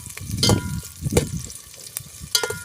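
Onions sizzle in hot oil on a clay stove while a utensil stirs them, giving a crackling fry broken by irregular scraping clinks close by.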